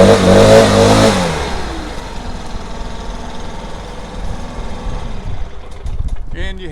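A new Stihl tool's small spring-assisted engine catches and revs loudly at first, then settles to a lower, uneven running idle with a brief burst of clatter at the end.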